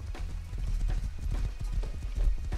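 A horse gallops in the survival video game Rust, its hooves pounding in a quick, steady clip-clop rhythm, close and loud throughout.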